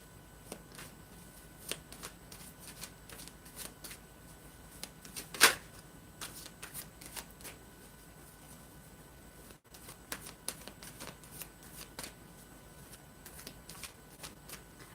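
Tarot cards are shuffled close by in a quiet room, soft riffling and light repeated card clicks with one sharp snap partway through.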